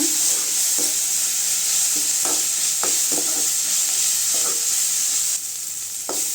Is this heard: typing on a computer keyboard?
no